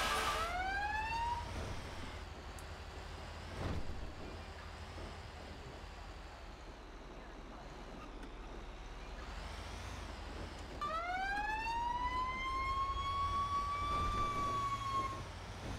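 A wailing emergency siren sweeps up and down, fading out, then swells back in loudly over a low engine rumble.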